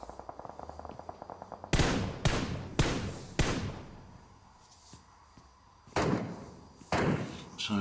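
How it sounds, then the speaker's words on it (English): An exchange of gunfire in a video game match at middle distance, a run of rapid light taps followed by sharp, loud single shots spaced out with ringing decay in between. "So sort of middle distance exchange of fire here."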